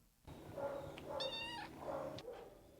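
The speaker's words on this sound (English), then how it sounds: "The cat says meow" Shelter cat meowing, a few short, quiet mews spread over a couple of seconds against a faint background hum.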